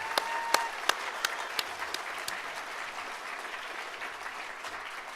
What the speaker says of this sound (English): Would you give a round of applause for the Vietnam Film Club?